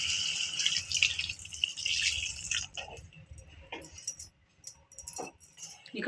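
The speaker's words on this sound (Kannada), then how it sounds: "ಈಗ ಈ ಮಿಕ್ಸರ್ ಜಾರ್ದು ಒಗೆರೋ ನೀರು ಹಾಕೋತೀನಿ." Water rinsed from a mixer jar is poured into a cooking pan, a brief splashing gush up front that trails off into scattered drips and small clinks in a quiet kitchen.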